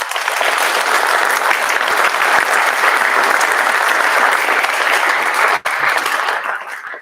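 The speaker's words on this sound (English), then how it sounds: "So I would give them a round of applause too." Audience applause at an EMS graduation ceremony, a dense, sustained wash of clapping filling the room for several seconds before easing off toward the end.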